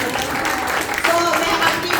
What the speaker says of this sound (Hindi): तालियां मारो जी तुसी मेरे के लिए।